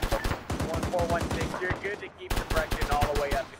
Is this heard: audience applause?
no